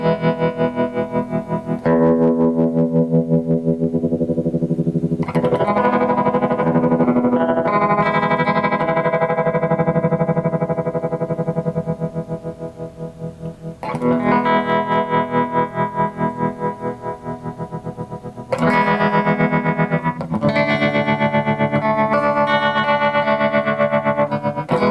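Electric guitar chords played through a BYOC Flying Pan panning tremolo pedal in mono, loud and distorted with a fast, choppy pulsing throb, strummed in several phrases with brief pauses between.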